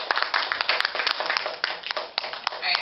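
A short burst of clapping from a crowd, dense and continuous for a few seconds.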